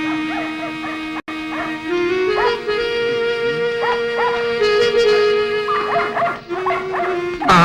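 Several dogs bark, yip and whimper in a continuous close chorus, with overlapping yelps over a steady tonal hum, brief pause near the start.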